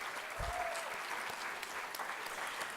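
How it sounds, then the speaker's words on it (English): Audience applauding teaching artists at an arts awards ceremony: a soft, continuous patter of many hands, fairly distant and even throughout. "Give another round of applause for our heartbeat teaching artists."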